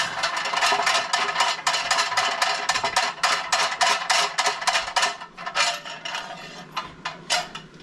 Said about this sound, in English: Now we're gonna unscrew these.